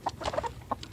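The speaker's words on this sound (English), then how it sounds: "That's the hen and her friends outside the camper." A hen and other chickens outside a camper cluck in a few short, close bursts, with no talk over them.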